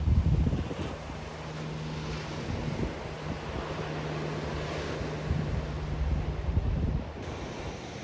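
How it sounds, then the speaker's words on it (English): Open-sea ocean waves far from shore, a continuous broad rushing wash with gusting wind buffeting the microphone and a faint low engine hum beneath, steady throughout. "Waves out in the center of the ocean."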